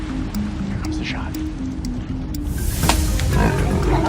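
A lion that has just been struck by a tranquilizer dart gives a low, rough roar, rising toward the end, heard against strong wind buffeting and voices talking nearby.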